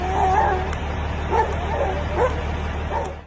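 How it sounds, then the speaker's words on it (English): A dog barks and yips repeatedly during a mountain lion attack, a handful of sharp calls spread across a steady outdoor noise bed, moderately loud and somewhat distant. "his loyal dog barks relentlessly in the background"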